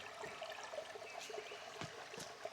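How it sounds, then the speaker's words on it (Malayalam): Steady trickling water runs continuously through a pipe, a soft even flow with a few brief splashy bursts, close by and without any talking. "വെള്ളം ഒഴുകുന്നുണ്ട്."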